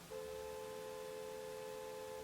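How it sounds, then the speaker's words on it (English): A car horn sounds outside at night, one long steady honk held for about two seconds, moderately loud and clear with no talk over it. "there's a car honking outside and it's 11 p.m."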